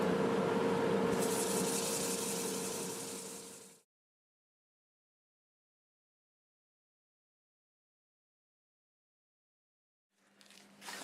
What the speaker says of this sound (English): Turn the dust collector on.